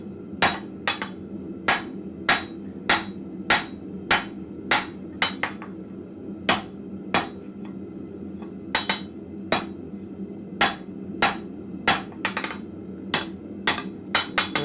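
Blacksmith working metal at the forge, sharp ringing hammer blows struck in a steady, brisk rhythm with short pauses between bursts, close and clear over a low background hum, no talking.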